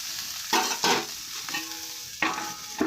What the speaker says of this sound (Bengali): দেখো গ্যাস অফ করবার পর আমি একটু নেড়ে নিচ্ছি